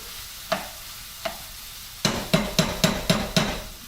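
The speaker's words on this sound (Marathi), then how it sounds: "आता मी काय करते हे पुन्हा एकदा ढवळून" A spoon stirs a snake gourd and dal curry in a pot, with two separate clinks followed by a quick rhythmic run of six scraping taps against the metal, close and clear with no talk.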